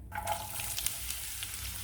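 Chopped onion frying in a little sesame oil with fennel seeds in a kadai, a steady quiet sizzle with faint crackles.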